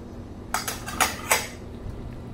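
Sambar with tamarind water simmering in a pot is stirred, giving three distinct metallic clinks of a spoon against the pot, close and clear, with quiet between them and no talk.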